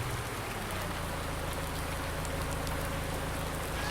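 Steady rain falling in the Alpine Erlengrat farm setting of Farming Simulator 19, a constant dense patter with a low engine-like hum beneath, heard alone throughout.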